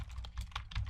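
Quiet, quick keystrokes on a computer keyboard click out a short command in a brisk, uneven patter of taps close to the microphone.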